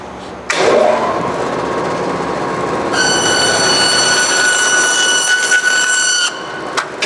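A roll cutting bandsaw starts up and cuts through a workpiece, a loud steady mechanical whine and rumble joined midway by a bright ringing screech of the blade biting in, then easing off near the end.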